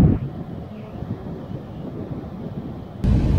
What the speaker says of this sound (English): With the sound of the wind, wheels, engines, the video is noisy.